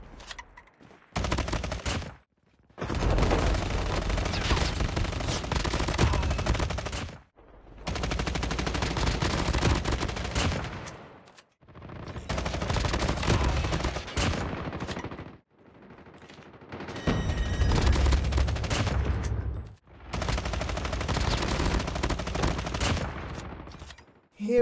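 Sustained bursts of rapid automatic fire from a RUS-79U submachine gun in COD Mobile, four or five long volleys split by short silences, loud and close.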